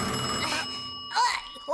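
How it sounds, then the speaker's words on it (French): An old-style telephone bell rings in an animated French detective series, a steady metallic ringing that sounds in bursts, with a voice speaking over part of it. "Oh, le téléphone."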